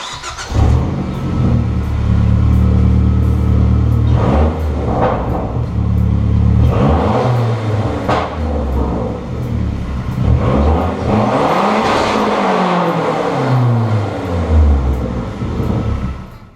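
A Gen 1 Mazdaspeed 3 fitted with a COBB SF airbox revs hard and loud, its mid-pitched engine note climbing and falling through several throttle blips and sweeps with deep rumble and intake roar, no voices.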